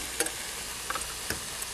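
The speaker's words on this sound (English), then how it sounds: "When you're stir frying beef, yeah, it only takes, about 1 to 2 minutes per side" Beef stir frying in a pan, a constant hiss of sizzling fat with a few faint ticks and clicks from stirring, steady and close with no voices.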